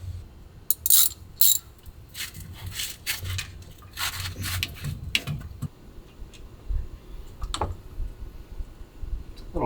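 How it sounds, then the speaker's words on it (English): A hand ratchet turning a 13 mm 12-point socket gives off repeated mechanical clicking and ratcheting bursts at close range over a dull background, during work on an ARB Locker. "You will need a 13 millimeter, what is it, 12-point socket."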